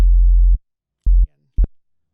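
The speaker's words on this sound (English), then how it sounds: "it's pretty much a sine kind of wave. It's got a little bit of harmonics from FM." A sine-like synthesizer tone carrying slight FM harmonics, in a DOOM-inspired effects rack, sounds as three clean pulses: a long held note, a shorter one, then a brief blip, loud and alone with clear silences between.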